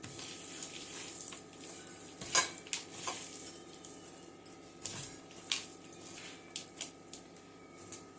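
Batter being mixed by hand for Maddur vada, salt just added: soft, wet stirring and scraping in a bowl with scattered small clinks and taps, a few sharper knocks, steady and close, no talk.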